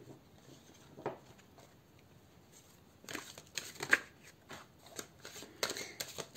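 Tarot cards shuffled by hand ahead of a card reading, a short soft patch of riffling followed by a busier burst of quick, close, papery flicks and taps.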